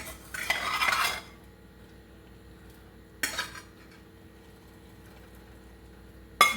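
Metal utensil scooping and scraping food from a pan after cooking tri tip, two bursts of clattering scrapes a couple of seconds apart and a short final clink, close with quiet pauses between.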